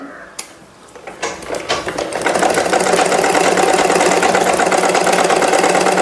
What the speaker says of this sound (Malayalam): ഈ ലൈനേക്കൂടെ കയറ്റി നമുക്ക് ഇത് തയ്ച്ച് നോക്കാവേ